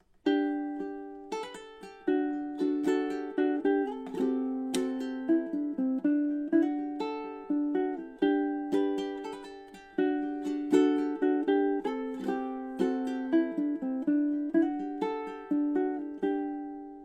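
A melody of plucked or struck notes moves at an even, steady pulse with regular phrasing and no stretching of time, clear and close.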